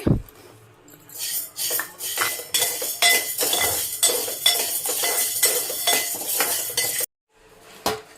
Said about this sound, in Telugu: ఇప్పుడైతే శనగపప్పు, ఫస్ట్ అయితే శనగపప్పు, మినపప్పు వేయించుకుంటున్నాను.